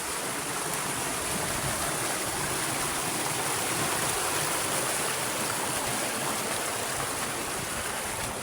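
Arapay Falls waterfall and its stream roar with a dense, steady broadband rush of falling and flowing water, close and loud throughout with no talking.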